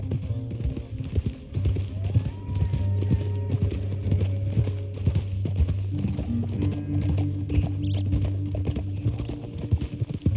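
Horses gallop across a canyon trail in Red Dead Redemption 2, producing steady rhythmic hoofbeats over a low droning musical score, with a brief snort partway through.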